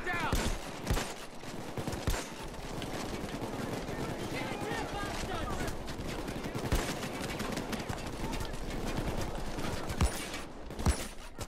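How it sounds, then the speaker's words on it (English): Shotgun fire in the heist video game Payday 2, repeated sharp blasts over a busy stream of gunfire and game noise, with a voice talking throughout. "These shotguns hit fucking hard."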